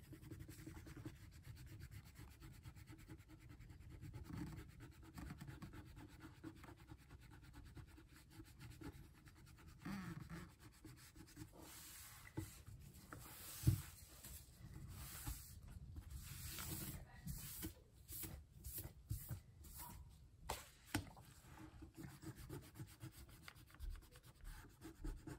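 An eraser rubs and scrubs across a comic book cover during dry cleaning, making soft, continuous scratchy friction sounds with brief sharper strokes, close and quiet.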